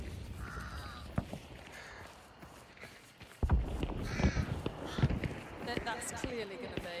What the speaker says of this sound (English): Birds to our left.